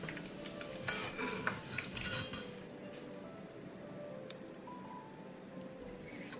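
Salt-and-pepper popcorn chicken pieces dipped in a starch coating deep-fry in hot oil, a steady broadband sizzle with a few metallic scrapes and clinks of a ladle turning the pieces, fairly close, no speech.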